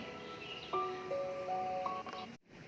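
A phone rings with an incoming call indoors, a faint, short melodic ringtone of a few sustained electronic notes that cuts off abruptly.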